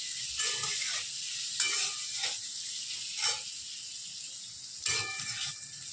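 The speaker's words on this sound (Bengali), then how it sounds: "এবারে আলুটা কিছুক্ষণ ভাজা হচ্ছে" Potato pieces frying in a pan during a vegetarian thor ghonto preparation: a soft continuous sizzle broken by several scraping stirs at uneven intervals, with no speech.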